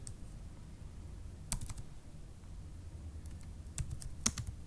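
Typing on a computer keyboard while writing C++ code, a steady near patter of light key clicks with a few sharper, louder strokes, heard alone without talk.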